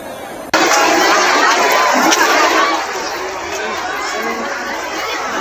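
A large crowd of devotees gathers for Ganga bathing at the river ghats, a dense, loud wash of chatter and shouting that starts abruptly, then eases slightly and continues without pause.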